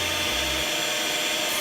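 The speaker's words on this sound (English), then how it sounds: "Whisk this to soft peaks." An electric mixer whisking 450 millilitres of cream to soft peaks for a Torta Setteveli, a loud, steady whirring drone that drops slightly in pitch partway through, with no talk.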